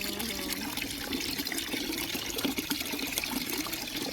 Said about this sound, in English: There's also somewhere where we were told it was spring water that was safe to drink.